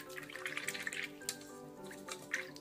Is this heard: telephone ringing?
no